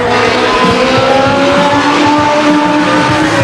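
Legends race car running a qualifying lap at Stockton 99 Speedway, its engine a loud, steady drone with rising pitch and faint tire noise, close and continuous throughout.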